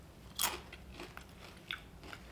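Crisp pan-fried salmon skin bitten and chewed close up, a sharp loud crunch followed by several softer crackling chews.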